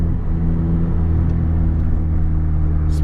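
A tuned car with a Ktuner engine tune pulls hard from a turn, its engine a loud, steady low rumble that fills the clip, with a brief hiss near the end.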